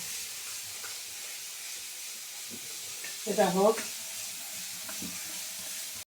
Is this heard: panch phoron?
yes